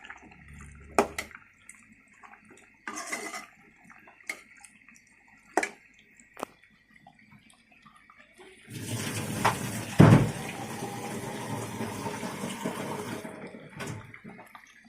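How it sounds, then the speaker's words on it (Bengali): Water pours into a cooking pot of beef and potatoes in a steady, fairly close splashing wash lasting several seconds, after scattered brief kitchen clinks and knocks. "এখন আমি একটু পানি অ্যাড করে দেব মাংস সিদ্ধ হওয়ার জন্য।"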